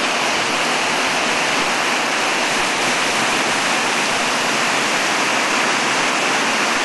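Loud, constant rush of the River Avon pouring over a weir in Bath, a dense, unbroken roar of falling water with no pauses.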